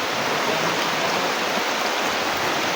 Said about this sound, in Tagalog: parang hindi to hihinto yung ulan